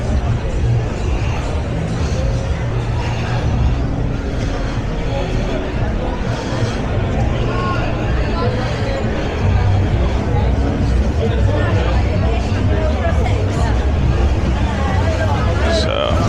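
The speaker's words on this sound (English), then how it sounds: "So the crowd was big before when we come down about 2 o'clock, and it's even busier now." A busy nighttime crowd fills a Blackpool street with dense, continuous babble and chatter, traffic rumbling underneath, with someone talking close by over the din.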